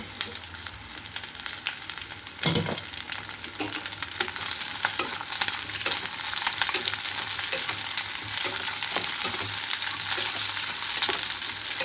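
Chopped ivy gourd (dondakaya) added to a pan of hot oil tempering with lightly browned onions, a steady close frying sizzle that grows denser and louder after a stirring clatter, with no voices.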